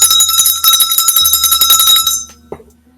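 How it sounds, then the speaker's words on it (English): A high-pitched bell rings continuously for about two seconds with a bright, shimmering tone, then stops abruptly, followed by one short faint tap, loud and close with no talking. "I like this bell better. Got more of a high pitch."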